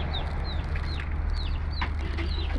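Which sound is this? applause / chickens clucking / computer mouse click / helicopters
chickens clucking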